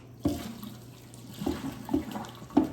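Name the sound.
hot liquid straining from pickled ginger through a colander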